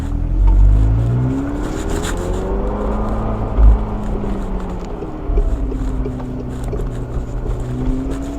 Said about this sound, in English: That power, oh my goodness, once I step on the throttle